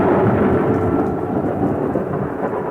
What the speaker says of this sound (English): The night of the storm. Such a storm.